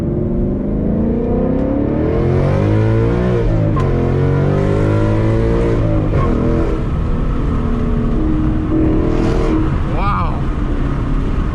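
A Ford Mustang GT, driven in normal mode, revs hard at full throttle from first gear with a rising, sustained engine roar close by, while someone talks over it.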